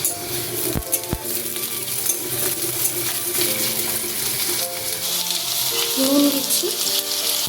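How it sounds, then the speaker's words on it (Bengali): Potatoes fry in hot oil in a wok with a loud, continuous sizzle, punctuated by a couple of sharp clinks and stirring, while a voice speaks briefly over it. "কড়াইতে তেল গরম হলে আলুটা ভেজে নেব"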